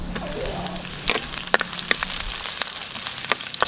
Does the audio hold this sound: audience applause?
no